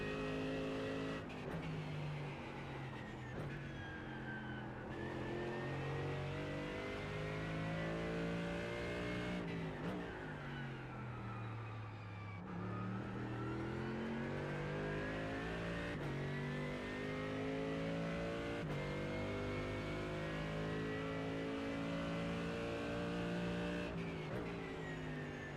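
In-cockpit engine of a Mercedes-AMG GT3 race car in iRacing, climbing and dropping through gears lap after lap, loud and continuous with brief lifts and faint tire noise, no voices.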